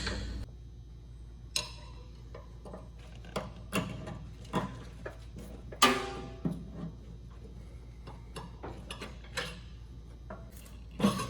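A large screwdriver prying a drive belt up and off a metal pulley under a zero-turn mower, giving a string of sharp mechanical clicks, scrapes and metallic knocks, close and irregular, with one louder snap of the belt coming free.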